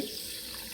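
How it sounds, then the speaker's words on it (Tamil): Water runs in a steady, faint stream for under a second, a soft continuous splash like pouring from a tap, poured onto ragi to soak. "பாருங்கள் இப்போ தண்ணி விட்டு"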